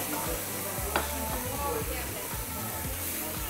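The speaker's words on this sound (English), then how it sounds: "All right, now it's time to cook the yakisoba." Yakisoba noodles fry in oil on a griddle in a Tokyo okonomiyaki restaurant, a steady close sizzle with the light scrape and tap of a spatula.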